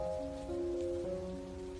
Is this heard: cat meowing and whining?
no